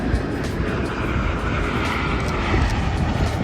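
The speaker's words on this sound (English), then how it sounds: "And here we have another plane coming. So we get down, make sure we're focused, wait for it to come overhead." A propeller airplane passes overhead with a loud, steady engine drone that fills the whole stretch without pause.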